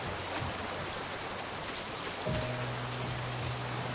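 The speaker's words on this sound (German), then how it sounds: "Regnet es? Ja, es regnet." Steady rainfall in the survival video game Raft, a constant soft hiss of drops with no talk, and a low tonal hum entering partway through.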